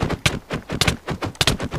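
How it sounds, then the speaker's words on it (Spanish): Repeated sharp twangs of a bow loosing arrows in Minecraft, several quick releases in an uneven rhythm, close and fairly loud with no talking. "Disparo un flechazo."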